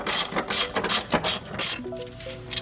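A ratchet turns a 16 mm socket to loosen a nut on a Jeep Renegade's trailing arm, giving close, loud bursts of pawl clicking in quick strokes with brief pauses.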